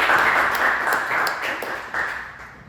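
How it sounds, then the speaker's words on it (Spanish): Applause from an audience at a professional workshop, a steady wash of many hands clapping that swells and eases slightly over a few seconds. "Otro aplauso por estar, por favor."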